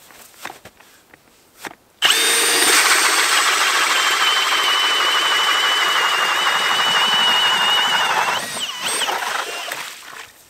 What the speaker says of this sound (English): I'm going to drill a hole here for some drinking water before I head up.